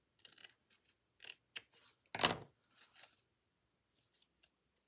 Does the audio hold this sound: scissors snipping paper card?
yes